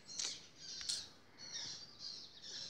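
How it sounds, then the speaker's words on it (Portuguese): Small birds chirp around a house in Brazil, faint and somewhat distant, with several short bursts of high tweets and squawks and no voices. "O somzinho dos passarinhos."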